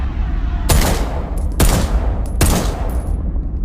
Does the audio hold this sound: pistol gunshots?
yes